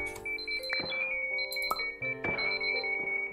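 Electronic beeping tones in the puzzle game Superliminal, a series of steady sustained beeps with pitch changes and brief chimes, clear and close with no voices.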